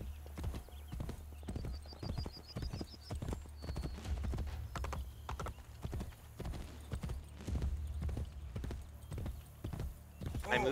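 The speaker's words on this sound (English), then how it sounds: "Get on the horse, Ezio." Rhythmic clip-clop of horse hooves in the video game Assassin's Creed Brotherhood trots steadily, with a brief whinny and some talking over the top.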